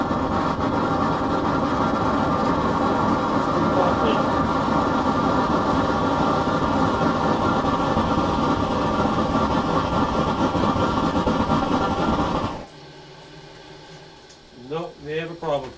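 A propane-fed engine fitted with a Joe Pipe hourglass GEET device runs loaded with a steady, dense droning rumble that cuts off abruptly near the end, followed by quiet and a few tonal, whistling sweeps.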